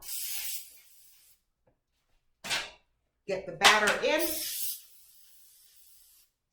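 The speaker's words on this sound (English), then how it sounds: "I'm just gonna spray these down." Short hissing bursts of aerosol cooking spray onto baking pans, close and sharp, one brief spray then a longer one, with a voice speaking between them.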